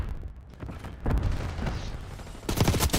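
Gunfire from Call of Duty: Black Ops in a competitive esports match, with sharp bursts of rapid shots in clusters, a heavy volley near the start and another dense burst at the end, loud and close.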